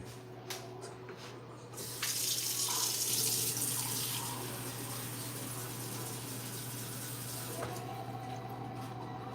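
Water pours steadily from a kitchen tap while cups of water are measured for cooking a chicken-fried chicken dinner, a sudden rushing start that eases to a constant flow over a low hum.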